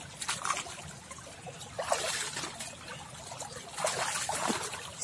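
Crucian carp splashing in a shallow river, heard as several brief watery slaps and trickling bursts close by, with quieter water movement between them and no talk.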